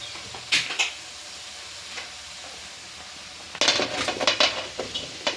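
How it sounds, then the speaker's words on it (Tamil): Citron pieces for pickle tipped into a pan of hot tempering: a few clinks of a utensil against the pan, a quieter sizzling stretch, then a busier flurry of clattering and sizzling near the end. "இந்த மாதிரி தாளித்த பின்னாடி நாத்தங்காயை கொட்டிக்கலாம்"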